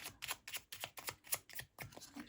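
Small tarot cards being shuffled by hand, a quick run of soft papery riffles and slaps in an uneven rhythm, close and fairly quiet with no voice over them.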